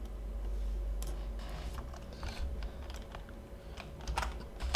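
Typing on a computer keyboard while editing a web page: scattered soft key clicks over a low steady hum, fairly quiet and without talking.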